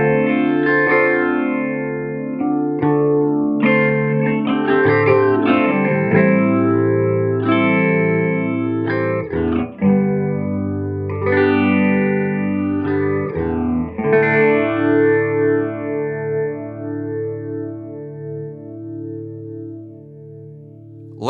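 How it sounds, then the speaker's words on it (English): Electric guitar through a Hardwire SP-7 stereo 10-stage phaser pedal, playing continuous chords and lines with a swirling, sweeping, chorus-like wash, loud and sustained for the whole stretch, with no talking. "I bet you're curious what that 10-stage phaser sounds like with a guitar"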